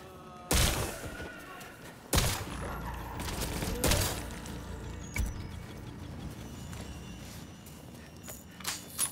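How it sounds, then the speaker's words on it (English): Shotgun blasts ring out in the survival video game ParadiZe. Three loud, sharp shots fire a couple of seconds apart, followed by fainter thuds and scattered in-game noise. "Yeah, this shotgun does work."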